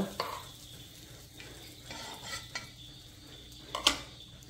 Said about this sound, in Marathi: तव्यामध्ये टाकायचं थोडंसं बटर आणि खरपूस ह्यांना भाजून घ्यायचं छान क्रिस्पी होईपर्यंत